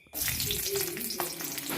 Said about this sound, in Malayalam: എണ്ണ നന്നായി ചൂടായതിന് ശേഷം വെളുത്തുള്ളി ഇട്ട് കൊടുക്കുക.